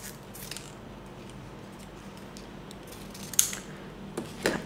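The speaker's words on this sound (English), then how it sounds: "Cut two pieces, and then after I cut the ribbon" Scissors cut ribbon for a handmade bow hair band, a few faint, quick snips in a quiet room.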